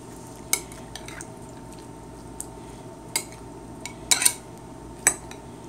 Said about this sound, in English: And then you take your spoon and you stir this up.